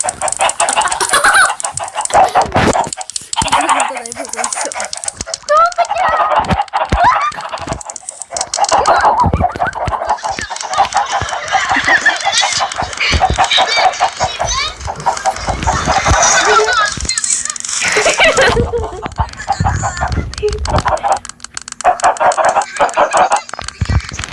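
Many Minecraft chickens cluck and squawk continuously in a dense, loud flock chorus, with occasional honking calls and brief background voices.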